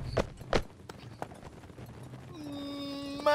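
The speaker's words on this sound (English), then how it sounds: "Come, my trusty steed, we must kill them." Horse hooves clip-clop in Mount and Blade: Warband, a few sharp thuds early on, followed by a steady tonal hum that rises toward the end; there is no talking.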